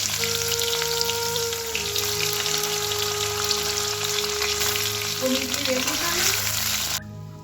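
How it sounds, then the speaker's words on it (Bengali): Paneer pieces shallow-frying in a pan over a lowered gas flame give a loud, dense, steady sizzle that cuts off sharply near the end, with a faint tonal hum underneath and no speech. "এই পনিরগুলো হালকা লাল লাল করে ভাজা হয়ে গেছে।"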